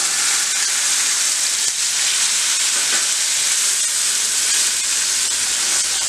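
Potatoes and spices sizzle steadily in a pan while being stirred, a continuous close, loud frying hiss for fast-style vrat aloo paneer, with no talking.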